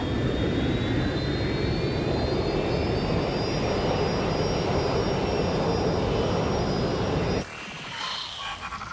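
Jet airplane engine in the video game Watch Dogs Legion, a loud continuous roar with a rising whine that holds steady for about seven seconds, then cuts abruptly to a quieter, different ambience.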